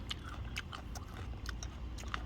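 Crisp bites and crunchy chewing of a firm green Thai mango, several sharp crunches spread irregularly over a couple of seconds, close and fairly quiet over a low background hum.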